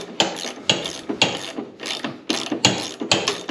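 Vice grip working a tight nut loose on a go kart's front suspension kingpin, a series of repeated metallic clicking, ratcheting scrapes in regular strokes, about seven bursts, close up and with no talking.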